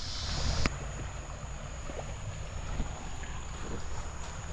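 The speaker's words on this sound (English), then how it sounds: "Love the sound of water running in the background." Soft, steady rush of running water beside a campsite in the Ozarks, a constant low broadband hiss with light wind noise and an occasional faint click, no talking.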